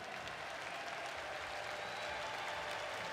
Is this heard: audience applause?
yes